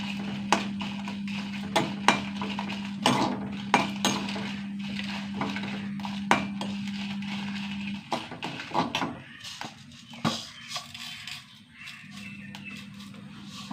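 Spices being dry roasted in a pan without oil, with scattered clinks and scrapes of a utensil against the pan over a steady low hum that breaks off partway through.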